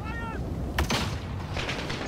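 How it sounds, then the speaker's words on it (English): An incendiary shotgun fires in Call of Duty: Modern Warfare, giving one sharp blast followed by a crackling, burning tail over a low in-game rumble, with no talking. "that was an incendiary shotgun"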